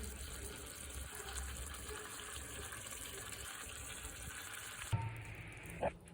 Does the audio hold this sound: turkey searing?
yes